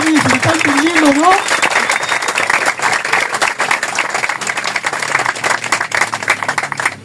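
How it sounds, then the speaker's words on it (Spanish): A church congregation applauding during a celebration service, a dense steady wash of clapping that fills the clip, with a voice briefly audible at the start. "Dale un fuerte aplauso al Señor"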